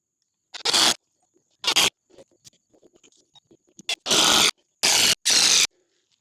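Screws being driven into a solar LED street light mounting: several loud, short bursts of a powered driver whirring close by, separated by small clicks and scrapes of handling, with no talking.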